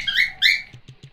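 A video game bird on the Switch gives two loud, shrill screechy calls, followed by three short soft pattering taps.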